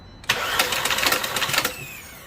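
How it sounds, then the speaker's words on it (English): A VW Golf GTI engine cranks without catching: a rapid, rhythmic chattering whir from the starter, fairly loud and close, lasting under a second and a half before stopping. "we're gonna crank this engine again"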